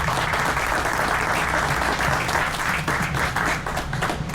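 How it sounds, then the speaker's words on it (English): Audience applause at an outdoor roadway ribbon cutting, a dense, steady wash of many hands clapping that holds loud and even throughout. "Can we give all of those partners a round of applause one more time?"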